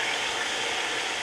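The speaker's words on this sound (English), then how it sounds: "that is where it's sizzling" Cold water sizzling on a hot pan used for searing meat, a steady, close hiss of crackling steam with no voices.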